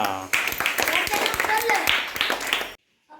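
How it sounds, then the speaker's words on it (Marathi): Children clap in scattered, uneven bursts during a learning activity while voices talk over them, then everything cuts off abruptly into silence near the end. "टाळ्या"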